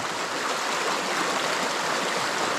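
Forest stream water flowing steadily near Thankowain waterfall in the Alikadam hills, a dense, continuous rushing and gurgling close by with no voices.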